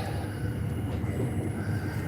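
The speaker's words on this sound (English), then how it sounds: "I'm only taking the train tonight because unfortunately I was up with my mates and I missed the last bus." A passenger train runs at night, a steady low rumble with rattling wheels and a faint high hiss, continuous and close throughout with no clear breaks.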